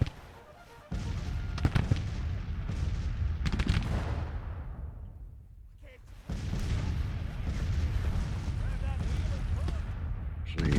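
Artillery in a Grand Tactician: The Civil War battle booms repeatedly in loud, rumbling salvos, with a lull in the middle before the heavy firing resumes and rolls on; a voice talks over it.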